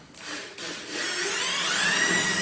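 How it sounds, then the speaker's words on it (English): A sharp drill bit cutting through a big hunk of brass, giving a steady rising whine and hiss that starts after a brief pause and builds into continuous close cutting noise. "That's a sharp drill bit, man. You go through that so easy."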